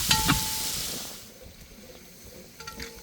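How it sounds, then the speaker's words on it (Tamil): Onions sautéing in a pan give a loud hissing sizzle at the start, with spoon scrapes, then fade to a quieter crackle before a few more stirring clinks near the end. "வெங்காயம் நல்லா வதவிட்டோம்"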